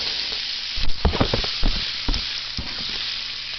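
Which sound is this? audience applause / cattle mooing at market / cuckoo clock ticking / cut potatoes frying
cut potatoes frying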